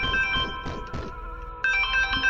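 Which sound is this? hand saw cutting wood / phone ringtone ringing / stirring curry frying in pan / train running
phone ringtone ringing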